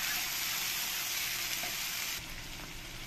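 Onions sizzle in a pan as cumin-coriander paste and ginger-garlic paste are stirred in for an egg jhol curry, with a steady, dense frying hiss that is close and loud and eases slightly toward the end, and no voice.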